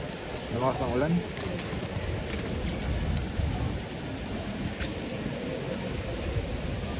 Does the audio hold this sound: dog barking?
no